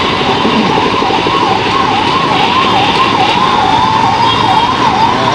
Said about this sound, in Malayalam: ഒരു പോലീസ് വണ്ടി, ആംബുലൻസും